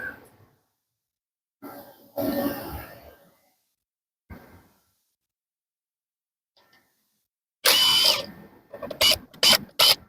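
Dipstick bolt being loosened with a wrench on an L61 engine during a one-handed teardown: a breath or grunt of effort, then several sharp ratcheting bursts in quick succession near the end, with silence between.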